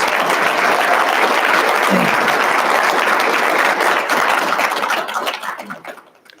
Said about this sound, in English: Can everyone offer them a round of applause?